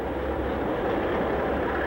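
Steady rumbling roar of a narrow-gauge train running along the tracks, continuous and even, with no voices.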